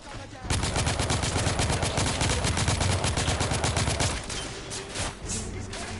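Rapid automatic gunfire rattles nonstop for about four seconds in the steampunk shooter The Order: 1886 on PS4, loud and dense, then gives way to quieter scattered shots and noise.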